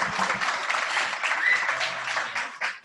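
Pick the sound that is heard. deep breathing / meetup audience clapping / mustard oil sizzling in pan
meetup audience clapping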